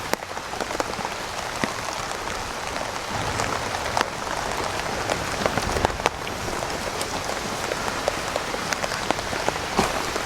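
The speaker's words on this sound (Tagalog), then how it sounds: "nabasa na tayo ng ulan." Steady rain pattering on surfaces outdoors, a dense, even hiss with scattered sharper drops throughout, continuous and fairly close with no talking.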